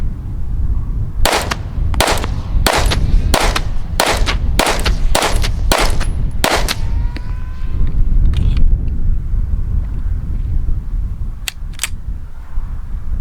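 A string of about ten sharp, loud pistol shots from a Springfield Prodigy 425 at a shooting range, fired in a fairly even rhythm, then a pause and two more isolated shots near the end.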